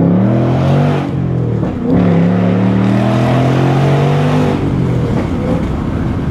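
A 500-horsepower 2024 Ford Mustang GT blipping its throttle on a rev-matched downshift, with loud, close engine revs rising and falling over a steady rumbling drone.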